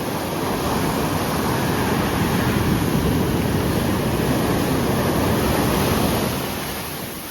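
Steady surf washing onto a beach at Nusa Penida, Indonesia, a broad continuous roar of breaking waves close by that holds evenly and eases slightly at the end, with no voices.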